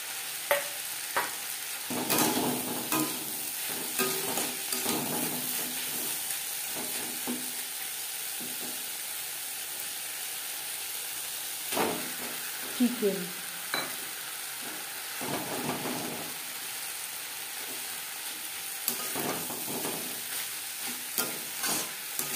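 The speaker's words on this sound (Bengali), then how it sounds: "তিন 4 মিনিট নাড়াচাড়া করে নেওয়ার পর দিয়ে দেব গাজর, ক্যাপসিকাম।" Chicken filling with carrot, capsicum, ginger paste and green chili paste is stirred in a hot pan for chicken patties, giving a steady sizzle with intermittent scraping strokes of the spoon and no voices.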